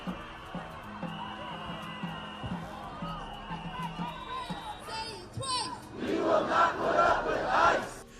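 Hundreds of protesters gathered near the scene of a fatal immigration enforcement shooting in Minneapolis shout and chant, a dense crowd roar building louder toward the end, with raised voices throughout.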